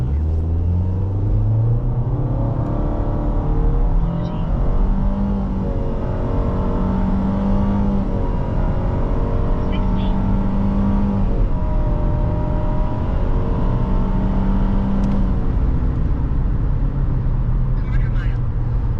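A 2017 Nissan Rogue SV pulling hard from a standstill during a 0–60 acceleration run, its engine rumble rising through several gear changes, heard steadily from inside the cabin with a voice occasionally over it.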